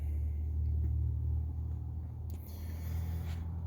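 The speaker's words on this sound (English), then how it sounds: "it seems to idle pretty fast" A vehicle engine idles fast and steady, a constant low rumble that holds throughout with no clear revving, close by and alone.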